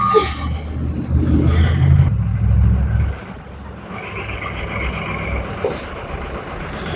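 A public transport bus in Santa Elena, Cayo, rumbles past close by, loud for a few seconds before fading into quieter street ambience with a brief high hiss near the end.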